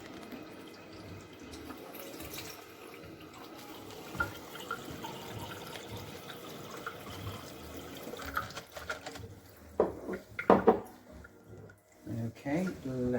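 Tap water and Kangen alkaline water at pH 9.5 running from a faucet and machine into containers, a soft continuous trickle with scattered drips and clinks, with someone talking over it and louder splashes near the end.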